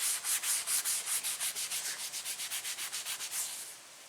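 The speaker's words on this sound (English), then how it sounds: "After you finish sanding" Rhythmic back-and-forth sanding scuffs on faded black plastic car trim, close and fairly quiet, about twenty even strokes speeding up slightly before trailing off.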